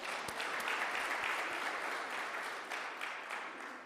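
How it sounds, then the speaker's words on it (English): Steady, dense applause fills a conference hall at a national petroleum local content policy event, holding evenly for about four seconds before easing slightly, with no voices over it. "Can we give them a round of applause?"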